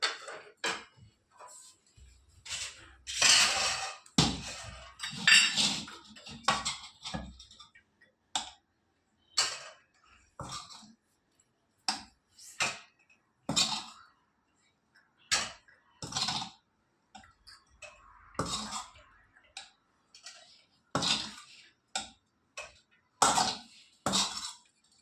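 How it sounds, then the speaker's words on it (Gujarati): Metal utensils scrape and clink against a pan and dish as cooked pasta is served out, a run of sharp, irregular taps and scrapes close by with long quiet gaps and little talk. "હવે આપણે ડીશમાં કાઢી દઈશું."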